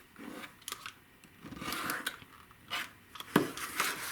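Scissors snip through quilting fabric while a half square triangle block is trimmed, giving several soft, close crisp cuts and rustles over a faint room background, with no talk.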